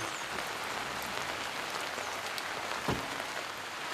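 Rain falls steadily on a campsite, a dense continuous patter on surfaces with scattered nearer drops, heard alone with no talking.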